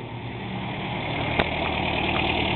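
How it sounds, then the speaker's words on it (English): A 1962 Nash Metropolitan convertible idles steadily through its single exhaust, a close, even, continuous hum with no break in its rhythm. "Listen to that engine purr. let you hear it running out of the single exhaust."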